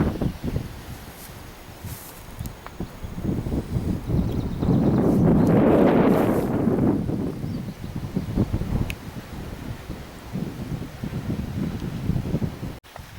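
Breezy wind buffets outdoors along a walk on the Old Military Road in Glen Ogle, a low rumbling gust that builds and peaks then eases back to steady rustling noise, with faint footsteps beneath.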